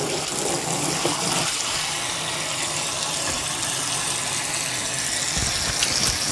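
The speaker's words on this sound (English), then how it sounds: "I fill up this with some cold water" Cold water pours steadily into a container, a continuous loud rushing gush with no breaks throughout.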